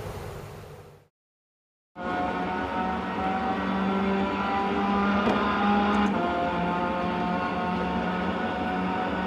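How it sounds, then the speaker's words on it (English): A Formula Renault 3.5 car runs flat out down the main straight at Monza in sixth gear near 200 mph, its engine a steady, dense high-pitched roar after a brief cut to silence. "Here we are on the start lap of Monza on the main straight, going through sixth gear, about 200 miles an hour"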